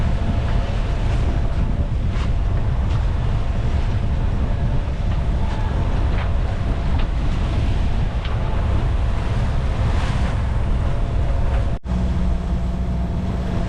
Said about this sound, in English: the sails are down, the engine's on, and we're heading into the harbor